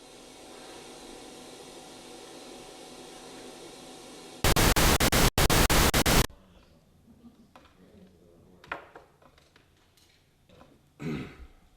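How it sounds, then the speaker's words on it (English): Loud bursts of harsh white-noise static from a spirit box sweep in abruptly for about two seconds, set against a quieter hiss, then fade to faint rustling and occasional knocks. "what I have here is a box that you could use the white noise to communicate."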